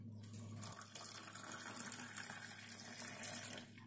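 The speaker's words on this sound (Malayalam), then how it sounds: "ഇനി ഇതിലേക്ക് നമുക്ക് ചൂട് പാല് ഒഴിച്ചു കൊടുക്കാം" Hot milk pours onto chocolate powder in a cup, a steady liquid splash and trickle that runs close and continuous for the whole stretch with no voices.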